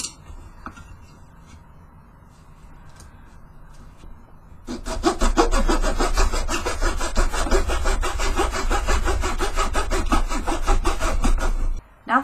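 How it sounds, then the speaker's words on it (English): A small handheld craft saw cuts through little wood pieces held in a miter box, giving steady, rhythmic back-and-forth rasping strokes that run loud and close for about seven seconds after a quieter start. "I'm just going to use my little craft saw that I picked up at Hobby Lobby and my little miter box."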